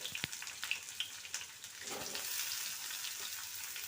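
Diced potatoes being stirred as they fry in a pan, with a few scraping clicks at first, then a steady, moderately loud sizzle, no talking.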